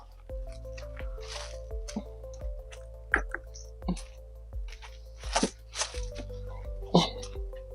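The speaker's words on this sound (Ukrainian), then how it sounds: "Отакий у нас сироп і заливаємо годівницю." Sugar syrup is poured into a BeeStar beehive feeder, making close, irregular drips, splashes and squishy plops over a low, steady hum.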